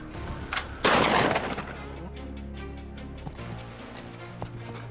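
One sharp, loud gunshot cracks out during a wild boar hunt on a mountainside, with a brief rumbling tail, against a steady outdoor background and faint rustling.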